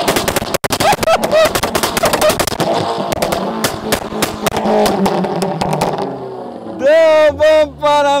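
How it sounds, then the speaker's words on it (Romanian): Rapid, very loud cracks and pops from the tuned exhaust of a Volkswagen Bora 1.8 turbo, fired off in dense machine-gun bursts, then a high revving engine note rising and falling at close range. "Astăzi o să facem testul de evacuare mai departe de aici, mult mai departe, pentru a nu trezi tot orașul."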